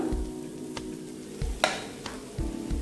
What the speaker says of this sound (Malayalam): ചിക്കൻ പീസസ് ഇട്ടതിന് ശേഷം ഞാൻ 1 മിനിറ്റ് വഴറ്റി ഇതിലേക്ക് നമ്മൾ പരത്തി വെച്ച റൈസ് ഇട്ട് കൊടുക്കണം